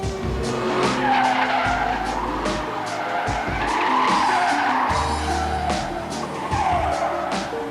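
A Maserati Cambiocorsa sliding on a test track with its ASR traction control switched off, tires squealing in long wavering screeches over a revving engine, close and loud throughout.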